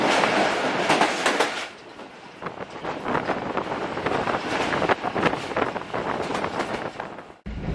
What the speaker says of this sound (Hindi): जल्द ही ट्रेन फर्राटे भरती हुई रावलपिंडी के नजदीकी कोरंग ब्रिज और टनल से गुजरी